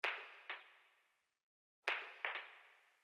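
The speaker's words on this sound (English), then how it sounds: "there was this kind of like billiards Foley sound" Two pairs of sharp clacks, like billiard balls striking, each ringing out with a short reverberant tail, separated by a brief silence.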